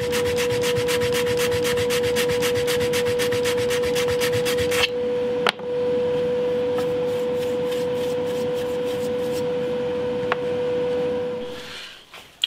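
A chisel scrapes at the wooden neck of a bass guitar in repeated rapid rasping strokes, with a steady tonal hum under it for the first half, a couple of sharp knocks, and the scraping fading out near the end.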